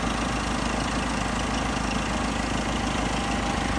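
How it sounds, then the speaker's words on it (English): A Deere snowblower mounted on a backhoe runs with a steady, close engine drone that holds at an even, idling-like pitch throughout, with no talking. "so this is a Skits Deere snowblower"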